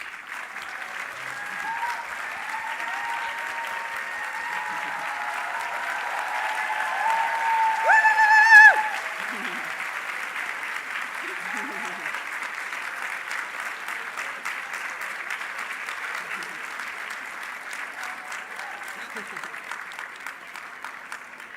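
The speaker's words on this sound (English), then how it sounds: "we'll give you a round of applause" Conference audience at the WAGGGS World Conference gives a long, sustained round of applause, swelling briefly midway with some cheering, while a voice speaks faintly underneath.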